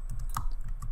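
A few quick keystrokes on a computer keyboard, close and brief, tapping over a steady room hum with no talk.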